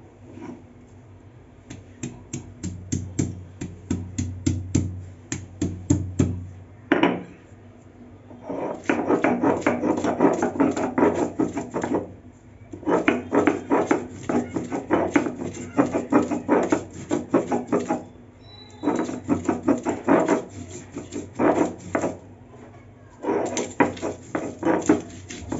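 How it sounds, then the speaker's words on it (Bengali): Ginger and green chillies ground into a paste by hand in a kitchen, with rhythmic rasping and rubbing strokes, quick tapping bursts at first and then long sustained scraping runs with brief pauses, close and fairly loud, no talk. "লঙ্কা আর আদাটা বাটা হয়ে গেছে।"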